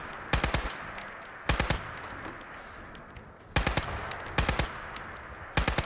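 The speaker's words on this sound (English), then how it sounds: "somebody's shooting us, but we don't seem to be able to shoot them." Automatic gunfire in Fallout 4 during a fight, with five short, loud bursts of rapid shots separated by pauses over a steady rushing background.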